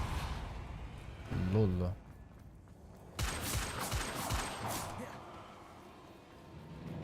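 A Levio Depulso spell cast in the Hogwarts Legacy video game against spiders: a short burst of whooshing, crackling impacts and a brief tonal flourish, followed by a longer rush of bright noise, with a voice speaking briefly.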